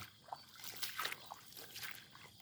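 Water trickles and splashes softly through a flooded rice field in the early morning, a faint, steady flow with small splatters close by and no voices.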